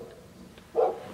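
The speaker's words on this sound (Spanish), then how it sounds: "Y ahí está Marian sacando a los perros" A single dog bark, short and fairly clear, rising out of a quiet background near the end as the dogs are taken out.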